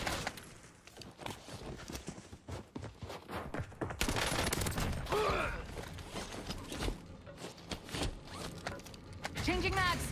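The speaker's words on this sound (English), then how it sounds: "Incoming shots." Incoming gunfire in a Warzone match, rapid crackling shots and mechanical clatter running continuously and fairly loud, with voices talking over the fire throughout.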